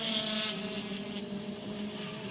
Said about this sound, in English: if we can listen to their engine notes here briefly, we can hear what they're doing and struggling with traction